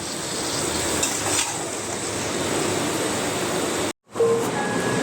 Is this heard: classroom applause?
no